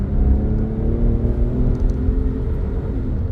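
A Ford Ranger's 2.7-liter V6 runs with a steady, loud low-frequency exhaust rumble and a faint rise in revs, continuous for a few seconds with no talking over it.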